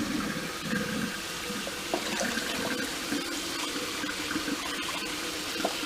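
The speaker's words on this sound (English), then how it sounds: "the water just comes out piping hot" Very hot water runs steadily from a kitchen tap into a bowl, a continuous splashing pour heard close up with no talk.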